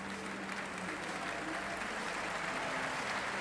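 Thousands of spectators cheering and applauding Paralympic track cyclists in the London 2012 velodrome, a continuous wash of clapping and crowd noise, steady and fairly distant, with no single voice standing out.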